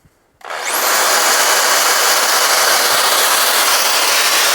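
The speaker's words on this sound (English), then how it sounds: "here is an old Black & Decker power drill" An old corded Black & Decker power drill whirs up after a brief silence and runs steadily at full speed, a loud, constant high-pitched motor whine.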